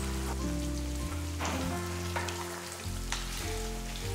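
Chicken cooking in a pan over a high flame gives a steady, close sizzle and crackle that runs unbroken throughout, with a low tonal hum beneath it.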